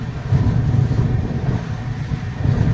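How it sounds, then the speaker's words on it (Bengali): Tamralipta Express passenger train rolling along after leaving Tamluk on the Howrah–Digha route, a steady low rumble of wheels and carriage noise, heard from inside, continuous and even without talk. "তমলুক থেকেও ট্রেন ছেড়ে দিয়েছে"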